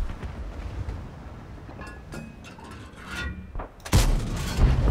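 A tank cannon shot in World of Tanks lands as a loud, sudden blast near the end, followed by a rumbling tail, after a stretch of quieter engine and battle ambience.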